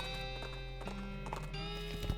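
Horse hooves clip-clopping in the video game West of Loathing, steady rhythmic steps over a dense background of game music, with a sharper thump near the end.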